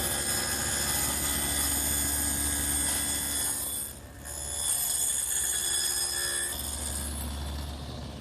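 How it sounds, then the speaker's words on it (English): A table saw fitted with a dado head cuts wood with a loud, steady motor drone and high whine that dips briefly midway and then resumes, with no talking. "I'll do that on the table saw with the dado head set in place"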